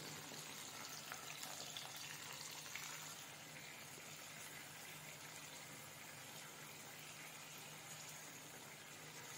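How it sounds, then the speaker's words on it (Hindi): Okra (bhindi) deep frying in hot oil: a steady, dense sizzling hiss that stays even throughout, moderately loud and close, with no voices. "तो इसी तरह मैं सारे भिंडियों को फ्राई करूंगी।"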